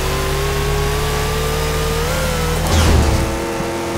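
A racing car's engine drones at steady high revs in Forza Horizon 2, pitch slowly climbing, then a brief louder surge and shift near the end; no talking.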